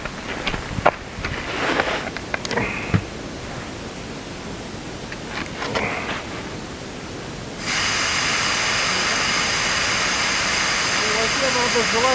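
Motorcycle tyres being let down before an off-road ride: a loud, steady rush of escaping air starts abruptly and holds to the end, after a stretch of nearby voices talking.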